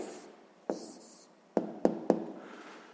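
A pen writes down an answer on paper during a sixth-grade math exercise, producing a soft scratchy stroke followed by several sharp taps, close and quiet, with no talk.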